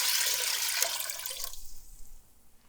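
Vinegar pours from a container into jars for a pickling brine, a brief splashing stream that tapers off quickly and leaves near silence.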